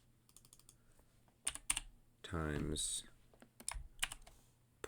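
Numbers being punched into a calculator or keyboard: faint, quick clicks in small clusters, with brief quiet speech in between.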